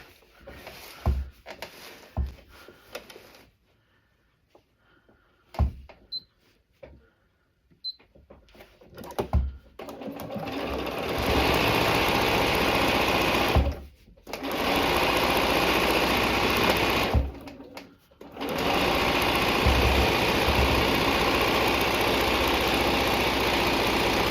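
A domestic sewing machine stitches through a pinned quilted pillow sandwich, running in steady sustained bursts with short pauses between them, after a quieter stretch of faint handling and clicks at the start.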